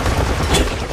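Rapid gunfire from the video game Resident Evil Raccoon City, a dense, loud burst of shots packed into a single continuous second with no voices over it.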